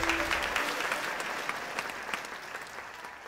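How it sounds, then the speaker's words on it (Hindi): An audience claps loudly and steadily at a singing contest result, a dense burst of applause that gradually eases, with a few brief voices underneath. "जोरदार तालियां गाइस"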